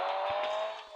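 A racing video game car engine drones steadily at high revs, loud and continuous with a faint pitch shift, with no talk over it.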